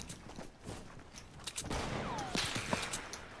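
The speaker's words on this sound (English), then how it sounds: "Dark Void, your girlfriend, shooting at me." Gunfire aimed at the player in the Fortnite video game, a spray of quick shots and sharp cracks that builds up in the second half, moderately loud.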